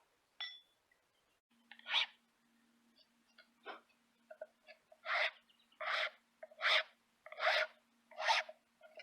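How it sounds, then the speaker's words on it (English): A small round file rasps against a powder horn in a quiet room, a series of short scraping strokes that grow more regular and rhythmic toward the end, with a faint low hum underneath. "So to do that, I'm going to use a little round file."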